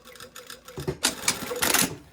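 Sewing machine stitching lining fabric for a garment, a short run of rapid mechanical clatter with slight starts and stops, close and fairly loud.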